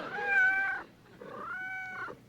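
A voice imitates a cat: two drawn-out, whiny meows close up, the second slightly softer, with no other sounds around them.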